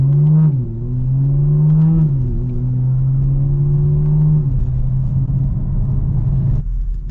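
BMW G82 M4 with exhaust valves closed to comfort mode, revving briefly then settling into a deep, loud, steady drone that fades to a lower idle before cutting off.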